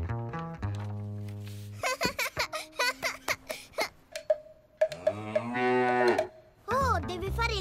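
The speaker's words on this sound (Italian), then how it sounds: "È per questo che sta muggendo." A cartoon cow on a farm moos several times in a short run, loud and close, with other animated sounds and brief vocal noises around it.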